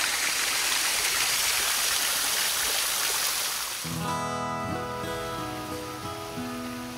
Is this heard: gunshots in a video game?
no